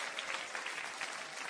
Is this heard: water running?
no